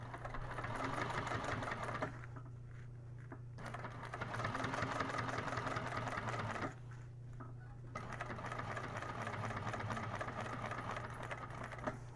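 A sewing machine top stitches through the side panel of a fabric bag in close, steady runs of rapid stitching, stopping twice for a second or so before starting again at an even pace.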